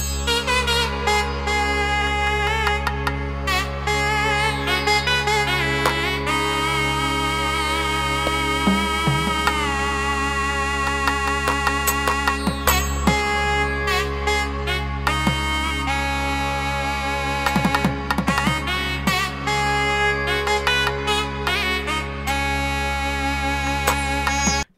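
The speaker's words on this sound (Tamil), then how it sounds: "ஓகே, இப்போ நாதஸ்வரம் சவுண்ட் வைக்கிறோம் பாருங்கள்." A nadaswaram reed voice from a Yamaha PSR-I500 electronic keyboard plays a bending, ornamented melody over a sustained drone, loud and continuous.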